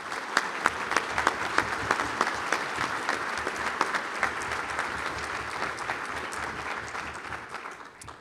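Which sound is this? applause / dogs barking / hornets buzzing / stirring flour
applause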